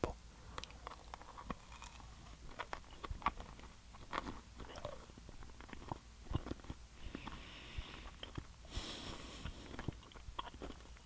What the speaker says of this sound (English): I'm already chewing.